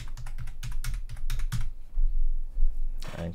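A password is typed on a computer keyboard in a quick run of close, crisp keystrokes, then a short pause and a final sharper key press.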